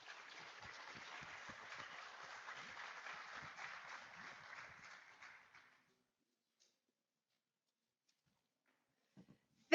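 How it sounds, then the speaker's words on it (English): Steady applause from a crowd after a panel discussion at a health conference in Las Vegas fills the first half, then fades out into silence, with a brief faint bump near the end. "Another round of applause for our panelists"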